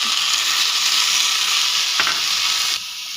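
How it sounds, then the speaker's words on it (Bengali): Gobindobhog rice and water being stirred in a pot for pulao, a continuous wet swishing and sloshing with a brief knock of the spoon against the pot near the end, close and alone. "এই যে আমি এখানে নাড়িয়ে নিচ্ছি"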